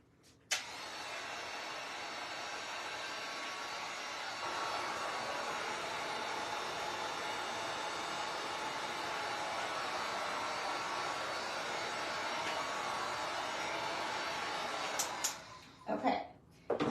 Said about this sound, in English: I am going to go ahead and dry that with the dryer once again